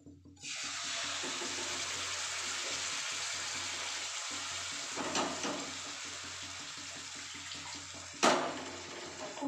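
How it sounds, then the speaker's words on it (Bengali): Water from rinsing a mixer jar is poured into a pan of aloo fulkopi, a steady splashing rush lasting several seconds, followed by a brief bump and clatter near the end. "খুব সামান্য একটু মিক্সি ধোয়া জল দিয়ে দিলাম।"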